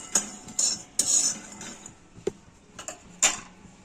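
Roasted peanuts being scraped from a pan onto a plate, giving a few sharp metallic clinks and scrapes of a utensil spread irregularly, close and fairly quiet with no talking.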